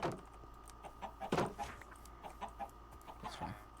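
Chickens cluck in Minecraft in a short run of soft, quick calls, with one louder burst near the middle, over a steady low game hum.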